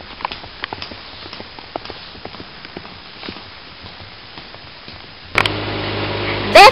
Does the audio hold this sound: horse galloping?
yes